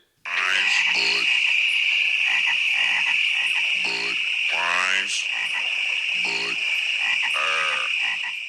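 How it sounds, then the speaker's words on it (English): Frogs croak in a Budweiser Frogs beer commercial: loud, close, repeated ribbity croaks come in separate bursts over a constant high insect-like drone, and the sound stays steady throughout. "we've got the Budweiser Frogs."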